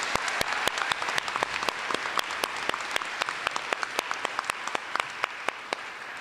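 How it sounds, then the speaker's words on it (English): Steady applause from a crowd at a college graduation ceremony, many hands clapping with distinct sharp claps standing out throughout, continuous and fairly close. "I want all the grads to give a round of applause to our faculty"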